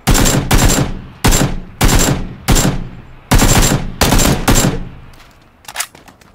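Gunfire in the PUBG video game at Pochinki rings out as a run of loud, sharp automatic bursts, about eight in quick succession, followed by a few fainter, more distant shots.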